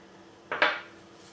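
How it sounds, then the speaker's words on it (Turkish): Two quick, close scraping clinks of a utensil against a bowl while ginger cookie dough with an egg is stirred, the second stroke louder and fading out, with quiet room tone on either side. "Tekrar karıştırıyorum."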